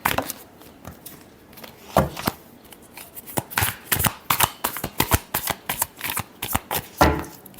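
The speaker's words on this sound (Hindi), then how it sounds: "last shuffle" Tarot cards being shuffled by hand, with repeated crisp riffling bursts and soft slaps in an uneven rhythm, close and clear with no talking.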